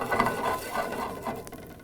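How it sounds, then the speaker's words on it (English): Chopped onions are stirred into a lemon juice and olive oil sauce in a pan, giving soft wet scraping and light clinking pattering close by, steady for a couple of seconds with no talk. "pop them down in our sauce, stir through"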